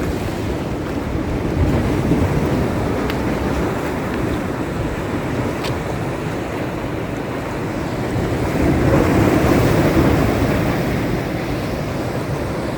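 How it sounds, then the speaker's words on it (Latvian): Ocean surf rolls in steadily on a Bali shore, broad continuous wash with a swell around the middle, wind buffeting the microphone throughout and no talking. "otrā pusē arī šeit jau pat vēl vairāk viļņi, vēl vairāk."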